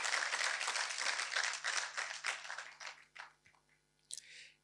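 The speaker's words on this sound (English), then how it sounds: "She deserves a round of applause." Applause at an induction ceremony in Ghana, fairly faint and dense at first, then thinning into scattered claps and dying away, followed by a brief noise near the end.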